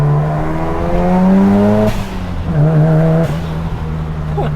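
Mazda FD RX7 rotary engine while driving on wet mountain roads, a loud steady drone with a gear change partway through, then settling back under light throttle.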